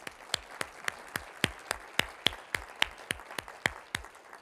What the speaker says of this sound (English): let's give another round of applause to the leadership of HHS